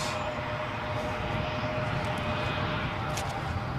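An Air France airliner taxiing briskly at Newcastle International airport gives a steady, broad engine roar and whine that stays constant and fairly distant throughout.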